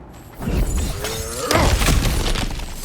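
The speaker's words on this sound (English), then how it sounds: "back to smashing through things for fun and profit" Cracked ground in God of War Ragnarök being smashed and shattering: a heavy impact followed by crunching, splintering debris, with a second louder burst of breaking and rubble settling after it.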